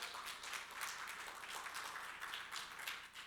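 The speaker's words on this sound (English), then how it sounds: "Really deserves a bigger round of applause than that." A round of applause from the audience at a destination website launch, sustained and fairly faint, an even wash of distant clapping with no voices over it.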